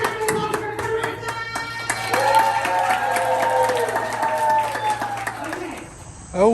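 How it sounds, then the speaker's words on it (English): A small audience at a kids' cupcake contest in a railroad depot claps and cheers for a contestant, rapid close handclaps and voices layered over background music and chatter. "can I get a really big round of applause for Carissa?"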